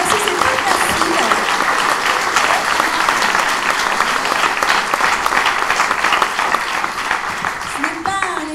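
An audience at a French-language talk event applauds steadily, dense continuous clapping that holds for several seconds before tapering slightly at the end.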